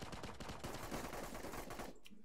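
Rapid machine gun fire in the shooter game The Cycle rattles in a dense, continuous burst, loud and close, cutting off abruptly near the end.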